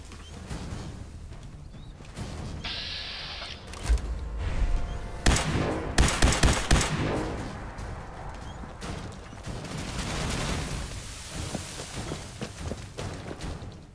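Gunfire aimed at a mirelurk queen in the Fallout 4 video game comes as a cluster of loud shots midway, set among mechanical clanks, steps and battle noise at moderate level without speech.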